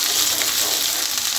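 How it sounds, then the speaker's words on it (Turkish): Minced meat fries in a pan with a loud, close, continuous sizzle and dense crackling, steady across the whole moment, with no voices. "Evet, kıymamız kavruldu, patırdadı."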